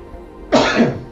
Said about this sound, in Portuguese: eu também espirro